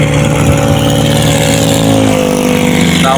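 A farm tractor works a rice field among a large herd of cattle, its engine chugging loudly and steadily throughout with some rising and falling in pitch, no talk heard.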